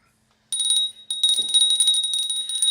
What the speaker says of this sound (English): the bell she's ringing is actually one of the ways that pink cleanses an area too